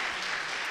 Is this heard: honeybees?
no